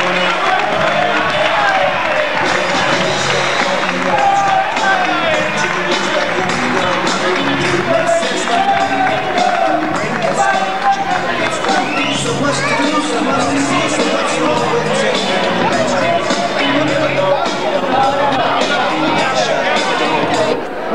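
Crowd at an 80th-anniversary event for the Huracán club, applauding and cheering the 2007 third-division champions; a steady, dense wall of clapping and crowd noise with murmuring voices runs throughout.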